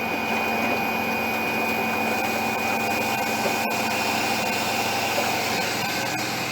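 Pumps plumbed in series and parallel run in a lab rig with the control valve partly closed, giving a continuous, even mechanical whir and hum with a faint tonal whine and a single small click.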